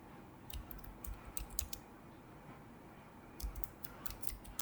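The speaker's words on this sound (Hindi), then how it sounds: "यहाँ पर हम अपने फाइल का नेम टाइप करेंगे, डिजिटल डॉक्यूमेंट" Quick light keystrokes on a computer keyboard as a file name is entered, faint soft clicks in two short clusters over a low steady room hum, with no voices.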